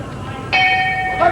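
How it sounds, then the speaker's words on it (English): An amateur boxing round bell between a US and Soviet 178-pound fighter rings once clearly with a bright metallic clang, then a second strike begins at the end, with a commentator speaking over the arena hum. "There's the bell."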